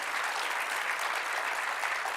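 Steady, dense applause from a TEDx talk audience fills the whole stretch, even and sustained without pauses.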